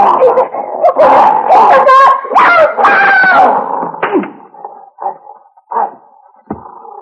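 A dog in a radio drama yips and barks excitedly in loud bursts over a busy mix of voices and commotion, then goes quieter with a few short whimpers and isolated yelps.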